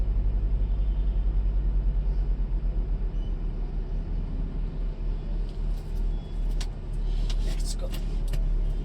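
A car engine idles and runs steadily inside the vehicle, a low continuous rumble throughout with light cabin rattles and brief faint clicks near the end.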